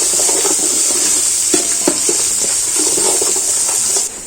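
Fish curry with two tablespoons of coriander powder is stirred in a pan, making a steady, hissing sizzle with irregular scrapes and light taps of the spoon against the pan, close and continuous.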